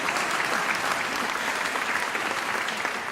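A graduation ceremony audience at Unisa claps together in a dense, even wash of applause that holds steady at moderate loudness for the whole stretch.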